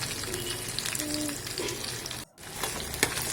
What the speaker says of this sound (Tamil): வெள்ளைப்பூண்டு நல்லா போட்டு நல்லா வதக்கிக்கோங்க